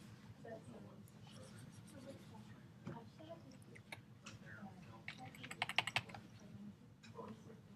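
Fingers tapping a number into a computer keypad while adjusting a brush setting in photo editing software, a few light, quick clicks near the end over quiet talking and soft background hum.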